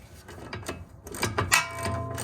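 A tool works the shock absorber bolt on the front of a Saab 900: close, busy metallic ratcheting and clicking in quick uneven bursts for a couple of seconds.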